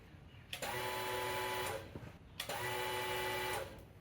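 An electric fuel pump on a Factory Five Type 65 Coupe runs in two bursts of about a second each, with a steady mechanical whir and a high whine, separated by a short pause.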